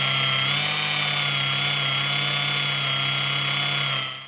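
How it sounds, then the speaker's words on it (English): Worn-out brush on a machine polisher losing contact during paint correction, giving a steady, loud whirring drone with a high whine that holds for about four seconds before trailing off. "So that is the sound of a brush that is on its way out"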